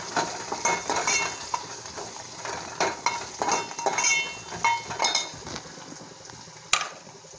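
Onion fries in a pan as chili-garlic paste is stirred in: irregular scraping and clinking of a spoon against the pan over a low, continuous sizzle, with a sharp clink near the end.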